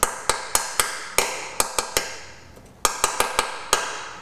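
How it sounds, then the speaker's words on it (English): Light hammer taps on a tool bit seated in the drain or fill plug of a VAG transfer case, about a dozen sharp metallic knocks in an uneven rhythm, close and clear, with a short pause midway. "if you give it a light tap"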